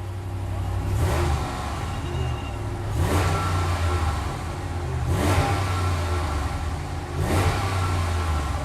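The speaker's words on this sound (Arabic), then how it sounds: "اسمعوا كده صوت الاكزوست." A new Dodge Ram pickup truck's exhaust roars through four loud revs, roughly two seconds apart, each surging and dropping back to a deep idle.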